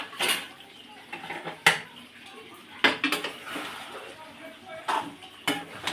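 Yogurt being stirred into a capsicum curry in a pan: a utensil clinks and scrapes against the metal in sharp intermittent knocks, close by, with a voice talking over it.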